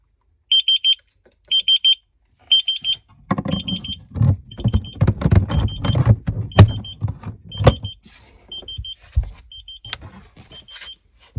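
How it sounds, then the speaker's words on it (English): An alarm going off on a boat, repeated bursts of high electronic beeping in a steady rhythm, joined partway by close knocking, thumps and rustling movement nearby, with the beeps continuing faintly underneath, no talk. "see if we can still hear the alarm going off when we actually sat in the boat"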